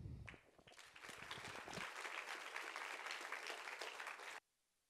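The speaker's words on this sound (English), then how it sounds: "a big round of applause here" An audience applauds after a speaker's talk: a dense, steady wash of many hands clapping builds quickly, holds at an even level for several seconds, then cuts off abruptly.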